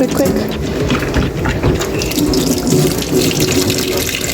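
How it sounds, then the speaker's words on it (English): Tap water runs steadily into a kitchen sink as hands are rinsed during preparation of Trinidad-style fish tea, a continuous gushing splash with a voice talking over it. "Give my hand a little wash, quick."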